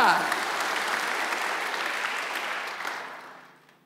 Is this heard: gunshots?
no